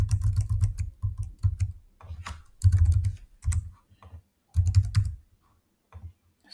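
Test card details typed on a computer keyboard, bursts of quick close key clicks in short runs separated by brief pauses, alone with no talking.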